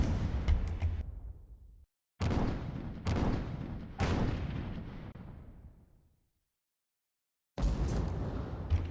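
Heavy gunfire in a naval video game battle, with booming cannon-like blasts in several separate bursts, each followed by a long fading rumble, loud and close with pauses of silence between.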